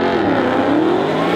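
A Ford Mustang and a Pontiac drag racing at Richmond Dragway, engines roaring loud and close as one accelerates hard, pitch climbing steadily through the short burst.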